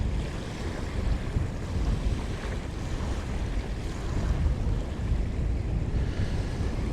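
Stormy sea surf pounds a resort beach at Sharm el-Sheikh, Egypt, with heavy wind buffeting the microphone, making a steady, loud, rushing roar with no pauses.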